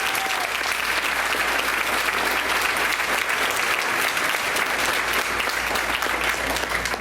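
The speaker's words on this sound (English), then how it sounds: "I think we gotta give her a round of applause for that." Applause from the audience at a school board regular action meeting, a steady, dense clapping that holds evenly for several seconds with no voices over it.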